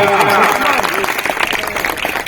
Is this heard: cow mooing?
no